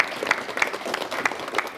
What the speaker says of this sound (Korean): 여러분 박수로 맞이해 주시면 대단히 고맙겠습니다